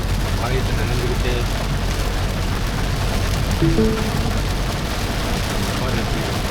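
Rain patters steadily on a moving car while the engine and road roar beneath it, a loud, constant hiss with a few brief tonal chirps in the middle.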